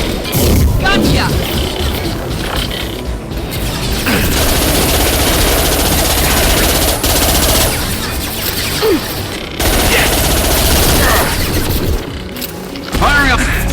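Rapid bursts of gunfire in Mass Effect 2 rattle almost nonstop, loud and close, with crashes and booms mixed in and brief gaps, while someone talks over the combat.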